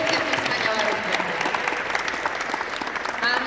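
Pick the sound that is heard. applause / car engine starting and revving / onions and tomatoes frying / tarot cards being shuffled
applause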